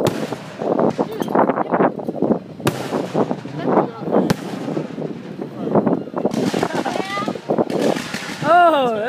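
Fireworks finale with willow minor fan shells exploding, a series of sharp booms and crackles at irregular intervals beneath excited people talking, with whistling shells near the end.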